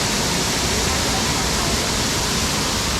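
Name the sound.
small waterfall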